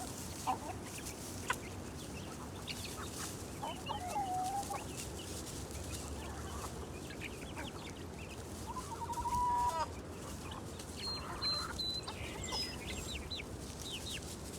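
Chickens clucking in a backyard near a compost pile, soft scattered clucks and brief calls over a quiet outdoor background.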